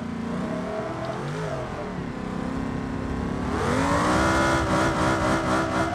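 A car engine in BeamNG.drive revs and whines continuously, its pitch sweeping up and down with gear-like shifts, then it rises and grows louder near the end. The car is unfinished and has no tyres.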